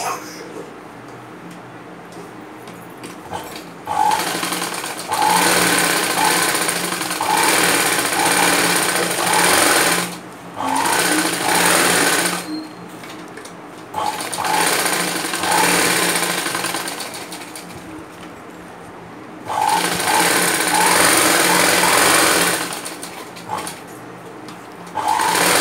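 An electric sewing machine stitches fabric with lining in several loud, steady whirring runs of a few seconds each, separated by quieter pauses.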